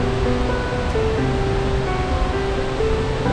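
Second falls of a waterfall near Lake Sebu, South Cotabato, roaring as a steady, loud, broadband rush of falling water that fills the whole clip without pause.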